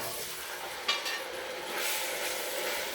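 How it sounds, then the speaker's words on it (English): Steady crackling sizzle of Cajun chicken frying in a hot pan, close and continuous, with a light clatter near the start. "You hear that sizzle?"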